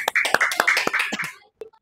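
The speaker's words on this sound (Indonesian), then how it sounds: "Tepuk tangan dulu." A classroom group clapping in a quick, uneven burst of about a dozen claps that thins out and stops, followed by one faint tap.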